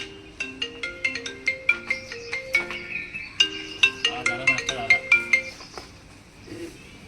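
A mobile phone ringtone plays a bright, plinking melodic loop, repeating its phrase twice in quick rhythmic notes, close and fairly loud, alone without voices, during a short film shoot in a cow shed.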